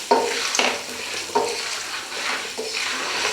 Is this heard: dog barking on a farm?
no